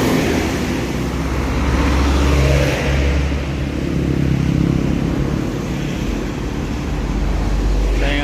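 An electric mini jeep's motor runs steadily with a continuous low hum and mechanical drone, fairly loud and close, with no talking over it.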